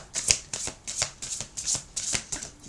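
Tarot cards being shuffled by hand in quick rhythmic riffles, about six crisp bursts in a row, close and clear with no talking.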